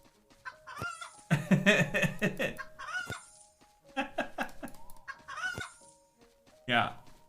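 Chickens cluck in the Ghostlore video game, several bursts of in-game fowl clucking and calls spread across the span, fairly loud and clear, with brief gaps between them.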